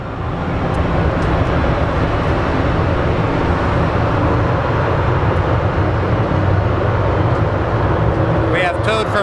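An airliner taxis at Phoenix Sky Harbor airport with a broad, steady engine rumble that fills the whole stretch, alongside background talk.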